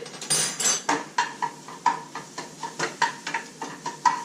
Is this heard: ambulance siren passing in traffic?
no